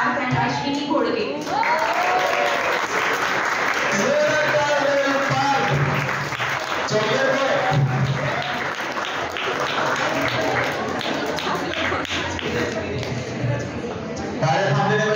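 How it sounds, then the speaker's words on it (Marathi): Sustained crowd applause for prize winners at a science club function marking Albert Einstein's birthday, loud and continuous throughout, with an announcer's voice and crowd noise over the clapping. "टाळ्या थांबलेले पाहिजे, टाळ्या थांबलेले पाहिजे."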